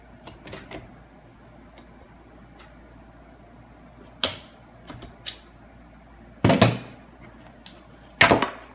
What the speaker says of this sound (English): So we'll take the sling off, and we'll push these pins out.